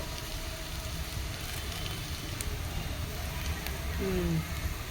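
Curry leaves frying in hot oil for a tamarind fish curry, a steady close sizzle and crackle under someone speaking.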